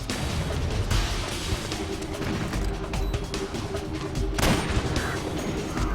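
Heavy anti-tank rifle fire in Metal Gear Solid 4, with dense overlapping booms and crashing impacts in a loud, continuous battle din and a sharp blast near the end.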